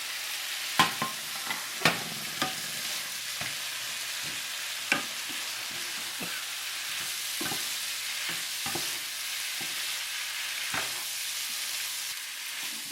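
Mussels simmer in a thickening garlic black bean gravy, giving a steady soft sizzle broken by occasional spoon-stirring clinks and scrapes over thirteen seconds, with no talk.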